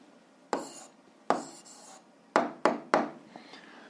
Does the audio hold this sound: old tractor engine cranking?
no